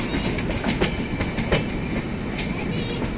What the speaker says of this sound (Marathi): विशाखापट्टणम ट्रेन पकडली आहे, ती 6:55 एटीवरून सुटते। तर आपला प्रवास आता चालू झालेला आहे।